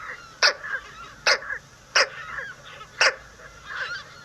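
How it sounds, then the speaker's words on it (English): Pelican chicks in a nesting colony give four sharp, whining grunt calls spaced about a second apart, with softer murmuring chick calls between them and a quiet background. "the chicks have kind of this whining grunt of a call"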